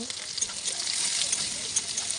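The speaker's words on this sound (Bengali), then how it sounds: "ওই তেলের মধ্যেই 5 ফোড়ন দিলাম, কাঁচা লঙ্কা 2টো দিয়ে দিলাম, কাঁচা পেঁয়াজ দিয়ে দিলাম। তারপর একটু নাড়াচাড়া করে নেব।" Five-spice seeds, two green chilies and raw onion frying in oil, a soft, steady sizzle with light stirring scrapes and faint crackles, fairly quiet and close.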